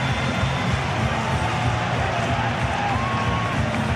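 Stadium crowd at a 2005 South Africa versus New Zealand rugby union test match, a steady dense roar of cheering and shouting that stays loud and unbroken throughout.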